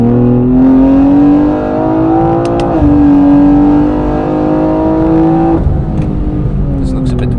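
A McLaren 765LT on the Nürburgring drives a loud, continuous engine drone whose pitch climbs steadily, drops at a gear change near three seconds and again near five and a half seconds, then rises once more.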